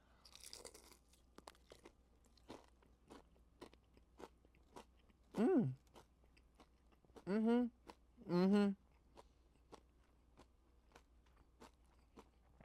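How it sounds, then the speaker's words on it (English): Crispy boneless Asian Zing chicken wings from Chili's are bitten and chewed up close, giving a series of sharp crunches and soft chewing clicks between short vocal sounds. "we're gonna try this Asian Zing wing, the boneless one"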